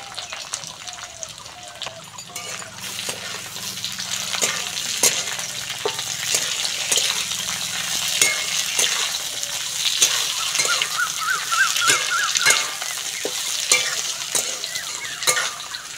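Capsicum, carrot and green chillies fry in a pan for fried rice, a continuous close sizzle punctuated by regular sharp clicks of a spatula stirring against the metal.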